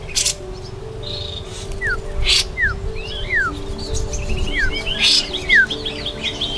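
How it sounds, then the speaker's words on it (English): A brown-cheeked bulbul, an Indonesian bearded songbird, gives repeated short chirps and quick upward whistled notes outdoors, scattered over several seconds above a steady low background hum, with no voices. "here's the brown-cheeked bulbul with the characteristic white beard"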